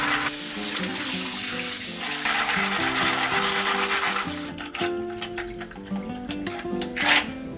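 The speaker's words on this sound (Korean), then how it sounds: "흐르는 물에 깨끗이 씻어주세요." Clams rinsed under a running kitchen tap: a steady loud rush of water for several seconds, then quieter splashing and shell clatter as the stream eases, with a brief surge near the end.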